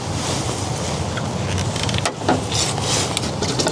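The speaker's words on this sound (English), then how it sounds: "All right, so now let's add the diesel fuel." Diesel fuel glugging and splashing from a 1.3-gallon can into a diesel heater's tank, a continuous close-up rushing pour with a brief gurgle midway.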